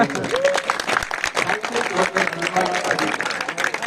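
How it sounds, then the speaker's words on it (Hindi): Audience clapping at a comedic magic show by a magician, loud and uneven with scattered individual claps, while a voice carries on over it. "भाई मजा आ रहा था, जोरदार तालियां होनी चाहिए।"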